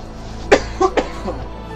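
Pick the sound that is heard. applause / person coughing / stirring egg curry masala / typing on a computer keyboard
person coughing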